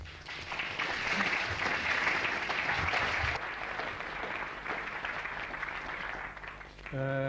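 An audience claps steadily for Rem Koolhaas at a lecture on shopping and the urban condition, a dense, sustained round of applause filling the hall for about seven seconds before fading as a voice begins.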